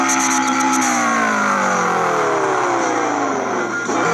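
A rear-wheel-drive Subaru Impreza STI engine in CarX Drift Racing revs loudly and steadily, its pitch falling in a long smooth sweep before a brief rise near the end, close and continuous without talk.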